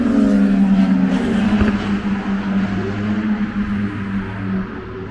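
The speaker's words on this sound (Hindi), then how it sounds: "कौन सी बाइक ओह बाइक देखो" A motorbike passes along a street near Krakus Mound in Krakow, a steady engine drone holding loud and close before easing slightly as it moves off, with no talk over it.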